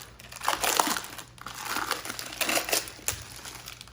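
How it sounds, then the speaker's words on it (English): An UMAi dry-aging bag is peeled off a 35-day dry-aged beef fillet with close, crisp crinkling and crackling of plastic in irregular bursts, alone. "So let's go ahead and peel the UMAi bag off."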